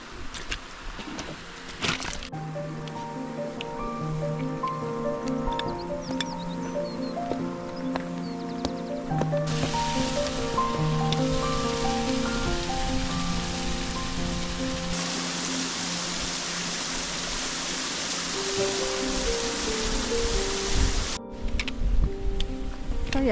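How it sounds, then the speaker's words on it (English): Small waterfall beside a fell path in the Lake District, heard as a steady broadband rush of falling water that carries through the whole stretch, with music-like tonal bands layered over it and no talk. "Coming up to a nice wee waterfall."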